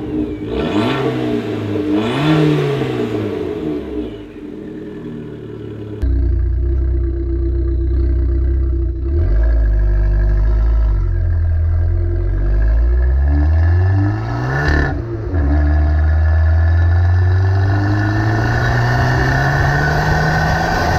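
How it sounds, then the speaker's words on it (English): An Abarth 595C Turismo's exhaust, heard close and loud as the engine revs in rising and falling sweeps, settles into a deep idle, then blips again with another sharp rev. "I'm sure you'll agree, this exhaust isn't exactly bad in regards to sound."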